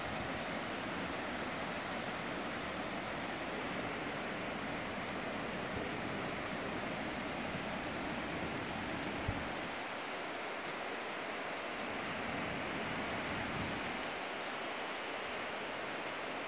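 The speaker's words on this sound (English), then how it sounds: "You can probably see the water running right there." Constant rushing of a mountain stream near Jasper, Georgia, a steady broadband wash, with no voices and a few brief low dips.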